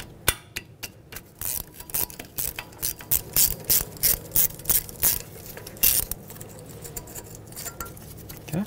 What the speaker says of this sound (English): On the other side of the strut, you'll have this 10mm bolt holding this bracket on for the ABS wire. Break that free.